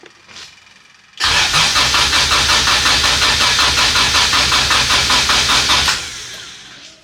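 A high-compression LSVTEC swapped engine is cranked on its first startup attempt, a loud rhythmic starter churn with even pulses lasting several seconds before cutting off, without catching.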